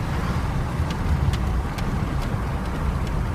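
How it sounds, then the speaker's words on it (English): Turbo diesel car accelerating hard, a steady loud low-end engine roar with road noise and faint whooshing, no voices over it. "Turbo diesel, bitch."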